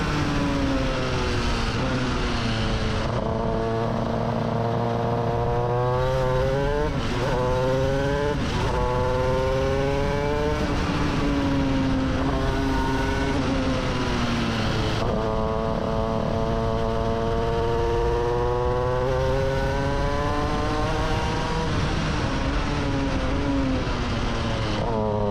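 A shifter kart engine howls through a full lap, rising and falling in pitch through repeated upshifts and downshifts, loud and continuous with sharp revving between corners.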